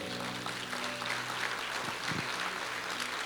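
A congregation applauds during a church faith seminar, soft continuous clapping heard at a distance with faint tonal hum and music in the background.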